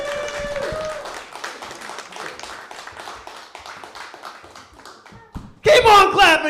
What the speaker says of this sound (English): Keep on clapping, guys.